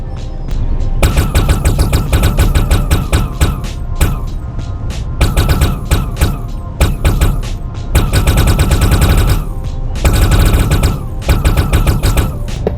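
Energy turrets in the Minecraft Valkyrien Space War mod firing in rapid bursts, loud sharp repeated shots in several volleys separated by brief pauses, with a low hum underneath.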